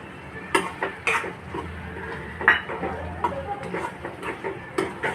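A spoon stirs peanut powder into a tomato curry in a pan, producing irregular scraping clinks and taps against the metal, soft and close, with no one talking.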